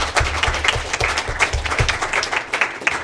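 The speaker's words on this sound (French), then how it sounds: "Je pense qu'on peut donner une main d'applaudissement." Audience applause in a hall at the close of a university divestment meeting, a few seconds of brisk, moderately sized clapping with irregular individual claps standing out.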